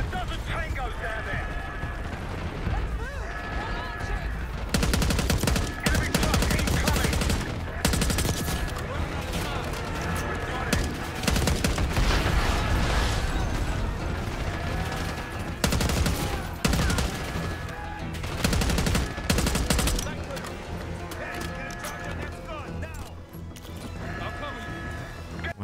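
Gunfire in the video game Call of Duty Black Ops 6, loud repeated bursts and volleys over a dense mix of game sound effects and music, with bursts of heavy shooting throughout.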